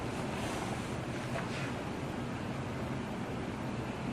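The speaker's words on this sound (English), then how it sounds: "This is a creek that runs through the reserve." A creek running through a reserve: a steady, fairly quiet rush of flowing water mixed with wind, continuous and without voices.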